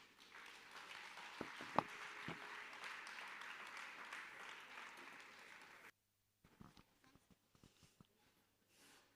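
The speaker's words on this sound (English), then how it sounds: "The round of applause is not presidential." Audience applause at the opening ceremony of the FIDA Nigeria 60th anniversary conference, a dense sustained clapping wash for about six seconds that cuts off abruptly, followed by scattered faint claps and small noises.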